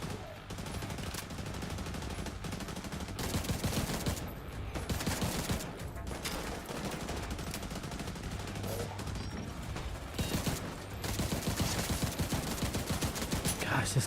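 Gunfire rattles from a hard-kicking gun in The Division 2, with bursts of rapid shots stacked into dense sustained volleys across the whole stretch, loud and close.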